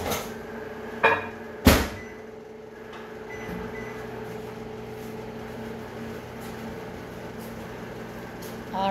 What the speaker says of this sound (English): so that is in the microwave for 60 seconds